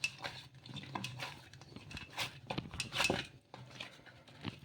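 Semolina (suji rava) dough for puris being mixed in a bowl, with irregular clinks, taps and soft scraping against the vessel, close and fairly quiet, in uneven bursts.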